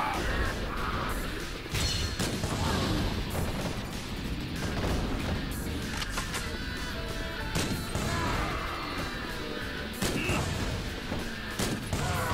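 A firework gun in the Yakuza OTE video game fires over and over in irregular bursts, each shot a loud crackling bang mixed with clattering impacts and crashes.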